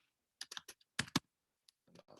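Quick clicks on a computer keyboard, a few short bursts of taps separated by pauses, faint and close in a quiet room.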